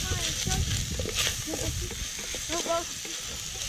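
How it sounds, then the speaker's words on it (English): Small prawns sizzle and crackle as they are stirred into a hot pan on a beach, with steady frying hiss and scraping stirs over soft outdoor background noise. "Stir in some of these small prawns I did earlier."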